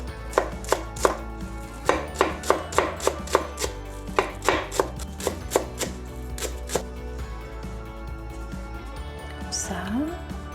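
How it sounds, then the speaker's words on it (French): A knife finely chopping beef on a cutting board, with a fast run of sharp, close knocks that bunch together and then thin out, followed by quieter handling near the end. "Couper très très fin."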